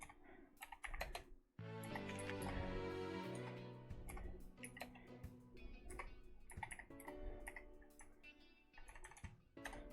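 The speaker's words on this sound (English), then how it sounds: "I'm typing with one hand." One-handed typing on a computer keyboard, a loose, uneven run of close clicking keystrokes that carries on throughout, partly layered over a burst of sustained tonal background sound early on.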